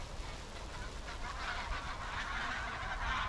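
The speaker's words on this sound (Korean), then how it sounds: "새소리가 들려서 조심스럽게 다가가는데" Outdoors in early spring, a flock of birds takes off all at once with a dense, whooshing flutter and honking calls, goose-like and fairly distant, with no talking.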